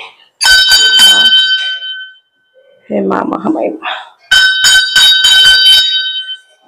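Temple bell clanging repeatedly at the Mahamai temple in Boirani, Ganjam, Odisha, loud close bursts of ringing split by a short spoken invocation.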